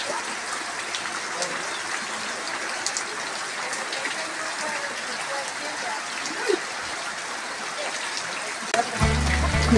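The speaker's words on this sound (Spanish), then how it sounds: "Y se viene más la lluvia." Steady rain hissing and pattering outdoors on a ranch, with occasional louder drips; a brief low rumble near the end.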